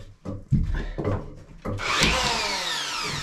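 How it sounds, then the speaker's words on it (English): An electric planer trims the edge of a wooden door in a small ice shack build: a few short knocks and starts, then a loud, close, sustained cutting whine that holds steady to the end. "So I'm just going to use the planer and trim it up a little bit"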